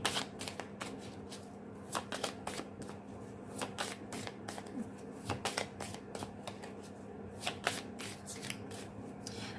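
A deck of cards being shuffled for a card reading, giving repeated quick riffling bursts with crisp flutters and soft rubbing between them, close and steady with no talk.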